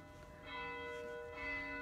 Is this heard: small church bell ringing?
yes